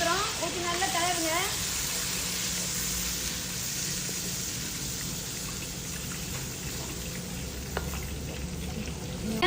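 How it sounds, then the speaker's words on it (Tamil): Ground spice paste poured into hot oil and stirred, giving a steady close sizzle and frying hiss throughout, with spoken voices over it and a brief whistle-like tone near the start. "நம்ம இப்போ அரைச்சி சாந்தை ஊற்றுறோம். ஊற்றி நல்லா கலருங்க."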